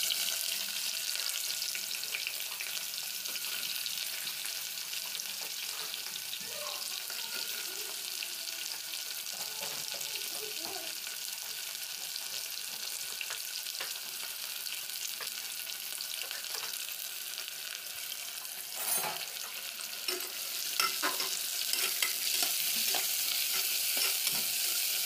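Onions for palav fry in a pan with a steady broadband sizzle, occasional faint stirring scrapes and a few clinks, constant and close throughout.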